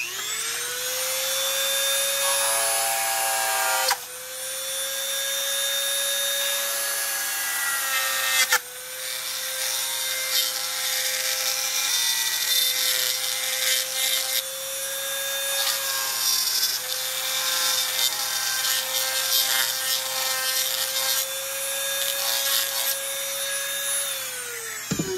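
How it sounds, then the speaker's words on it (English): A Dremel rotary tool fitted with a router bit cutting holster blocking gives a loud, steady high-pitched whine that dips briefly twice as the bit bites into the material, running continuously without speech. "This is just a router bit from Dremel."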